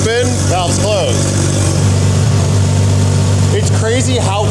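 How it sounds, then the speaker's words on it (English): Porsche GT3 RS idling with its exhaust valves closed through two small mufflers, a steady low hum heard close up with someone talking over it. "It's crazy how quiet this car could be with just those two little mufflers with the valves closed."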